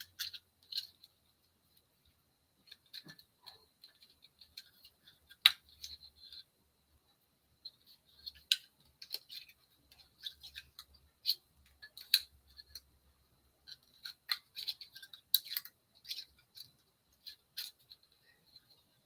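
Paper being cleared out of a scrapbooking tool with the flat edge of a multi-purpose tool: faint, sparse scratching and sharp clicking ticks in irregular bursts over near silence.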